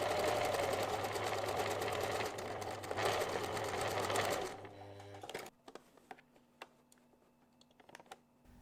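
A sewing machine stitches the seam of an unlined fabric drawstring pouch with a loud, fast, steady whir, then stops abruptly, leaving faint clicks and handling noises.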